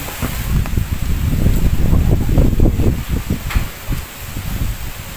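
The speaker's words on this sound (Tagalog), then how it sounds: "Lakas ng hangin." Strong gusts of wind buffet the microphone in heavy, rumbling bursts, rising and easing over a few seconds, at a resort in Tanza, Cavite, with rain setting in.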